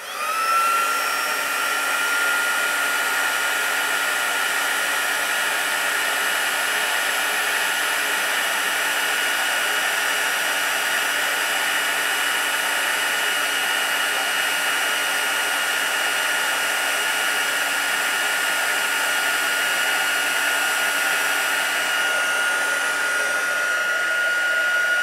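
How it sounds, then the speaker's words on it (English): Heat tool blowing hot air during card making, a steady loud continuous whine and rush of air lasting the whole time without pause. "now my heat tool. A little bit of noise here, it's not too bad."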